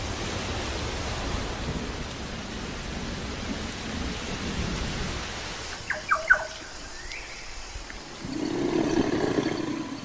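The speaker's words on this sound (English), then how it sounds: "At the height of the wet season, it rains almost every day." Heavy rain pours down in a dense, steady roar, with rumbling thunder swelling toward the end and a few brief squeaks partway through.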